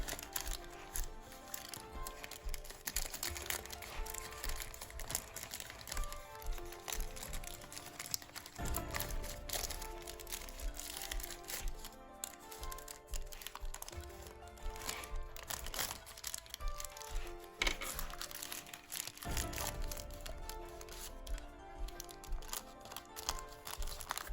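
Paper being folded and creased for a Ryujin 2.1 origami model: steady, close crinkling and rustling with soft crunches and occasional sharper creasing bursts throughout, no talking.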